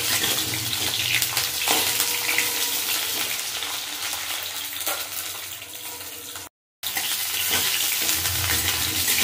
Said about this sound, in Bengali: 4 পিস আলু দেবো, দিয়ে আমি নাড়ি চাড়িয়ে দেবো।